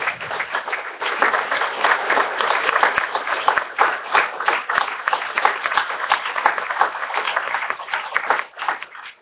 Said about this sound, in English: ask you to give a big round of applause to all the contributors to BigBlueButton over the years